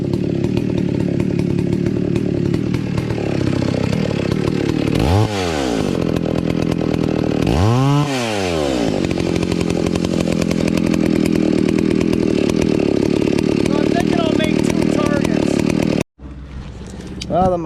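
A McCulloch chainsaw with a carburetor problem roars steadily while cutting wood, with a couple of rising and falling revs midway, loud and close before it abruptly cuts out near the end.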